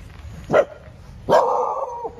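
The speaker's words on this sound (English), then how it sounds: "Not your dog, Brian." A stray dog wandering near apartment buildings in Pattaya gives a short bark and then a longer, drawn-out howling bark a second later, fairly close against a low background hum.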